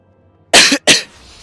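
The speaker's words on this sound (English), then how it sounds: "He says as he coughs." A person gives two sharp, close coughs in quick succession, loud and harsh against an otherwise quiet background.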